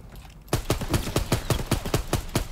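Gunfire in the World War II shooter Call of Duty WWII: after a quiet half second, about ten loud, evenly spaced gunshots crack out in a steady rapid rhythm, up close and with no talk over them.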